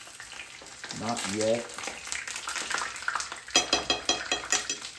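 Chicken for chicken parmesan frying in a pan, a steady crackling sizzle with bursts of spattering near the end, while a person speaks briefly over it.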